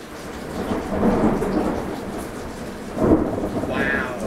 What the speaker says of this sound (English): Wow. Rolling thunder.